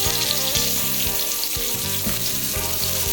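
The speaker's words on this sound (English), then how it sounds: "All right, so we're gonna get a nice sear on these." A5 wagyu steaks sear in a pan, giving a loud, dense sizzle that runs unbroken throughout, joined by faint rhythmic background tones and no voices.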